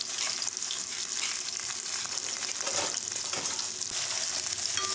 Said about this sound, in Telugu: అందులో ఆయిల్ పోసేసుకొని మనం తరిగిన ఉల్లిపాయ, పచ్చిమిర్చి వేసి